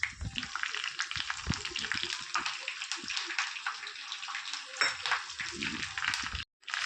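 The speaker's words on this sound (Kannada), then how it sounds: "ಇಲ್ಲಿ ಎಣ್ಣೆ ಬಿಸಿ ಆಗ್ತಾ ಇದ್ದಂಗೆ ಸ್ವಲ್ಪ ಕರಿಬೇವು ಪಲ್ಯಕ್ಕೆ ಜಾಸ್ತಿ ಹಾಕೋತಾ ಇದ್ದೀನಿ." Curry leaves, cumin and spices crackle and sizzle steadily in hot oil for a vegetable palya, a close, continuous hiss with small pops and occasional stirring clinks; a short silence comes near the end.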